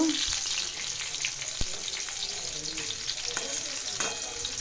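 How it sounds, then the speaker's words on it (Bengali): Pumpkin pieces sizzle steadily in a hot pan, a dense continuous hiss with a few sharp pops and light clicks of stirring, close and fairly loud with no voices. "এই যে কুমড়ো ভাজা হয়ে গেছে, এবার নামিয়ে নেব।"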